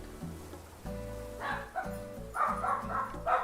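Dogs barking: a few short, mid-loud barks in quick bursts, mostly in the second half, over a steady background tone and patter.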